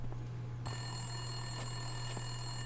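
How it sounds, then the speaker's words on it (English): A telephone rings steadily in the video game Max Payne 2, sounding as a continuous electronic bell tone at moderate volume with no voices. "Winterson's phone was ringing."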